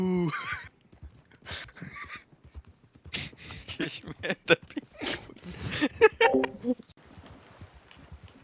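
A horse neighs in a video game with a shrill whinny near the start, and then clip-clop and snorting sounds follow under people talking over the game.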